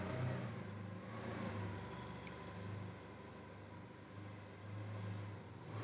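A propane-fueled forklift engine idles steadily at close range, a low continuous hum with a mild rumble and no speech.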